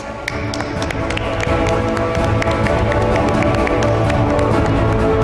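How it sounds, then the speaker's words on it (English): A large audience at a textile association's golden jubilee celebration gives loud, continuous applause to welcome the chief guest, a union minister, with dense clapping and crowd noise that stay strong and steady throughout. "Let's welcome him everyone with a thundering round of applause"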